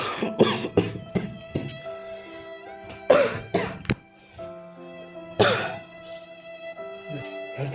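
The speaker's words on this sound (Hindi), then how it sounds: "कैसे बिकट खांसा था?" Harsh, heavy coughing fits from a person in several loud bursts, close up, separated by short pauses, with a steady musical tone droning underneath.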